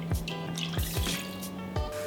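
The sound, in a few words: chicken stock and water poured into a pot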